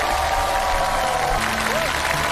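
An audience claps in applause to welcome guests at a televised song show, a dense, steady wash of clapping filling the whole short stretch, with faint tonal background sound beneath.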